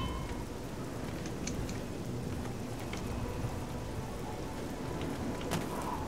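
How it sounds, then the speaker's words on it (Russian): Steady rain hisses from a TES Oblivion game weather effect, with scattered drop patters and a faint low rumble, no voices. "Когда дождь, прикольный эффект,"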